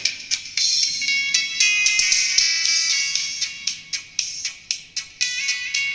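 A small WT A500 tweeter speaker plays bright, trebly music with sharp rhythmic plucked notes, clear and fairly close, with no voices.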